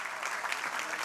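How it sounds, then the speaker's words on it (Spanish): An audience at the closing speech of a banking convention in Colombia breaks into brief, dense applause, a steady wash of clapping with no pauses. "Regálenme el aplauso"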